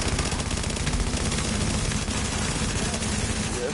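Video game gunfire rattling in rapid, continuous automatic bursts, loud and close, with dense crackling shots filling the whole moment.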